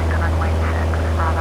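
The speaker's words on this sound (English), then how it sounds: "I'm now at full throttle. We should lift off at around about 70 miles an hour." A Piper Cherokee's single piston engine drones steadily at full throttle during a takeoff roll in a flight simulator, a loud constant hum with a voice talking over it.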